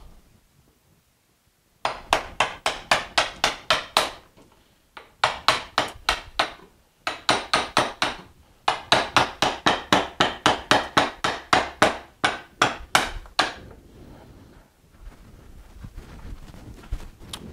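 Regular mallet blows on a bench chisel cutting wood in a workshop, crisp loud knocks in quick rhythmic bursts of several strikes separated by short pauses, close and alone without talk.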